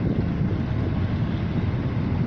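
Strong, steady wind roaring across a sailing ship's deck in fog, with a dense, continuous low rumble close to the microphone and no voices.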